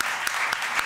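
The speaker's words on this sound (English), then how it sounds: "let's finish with an applaud to our laureates" Audience applause for the 2019 Nobel laureates in Physics and Chemistry at a press conference, a steady close wash of many hands clapping with a few louder claps standing out.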